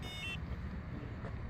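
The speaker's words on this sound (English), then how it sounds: "Makes a lot of beep noises." A TurboAnt V8 electric scooter gives a brief high electronic beep at the start, followed by a short faint chirp close by.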